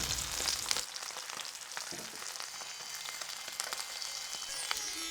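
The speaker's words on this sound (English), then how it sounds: "Frying it is a dangerous job because the fat is going to jump about." Chicken frying in hot fat in a pan, a steady crackling sizzle with sharp pops and spits of fat scattered throughout, fairly quiet and close.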